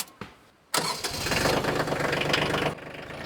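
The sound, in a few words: compact tractor engine idling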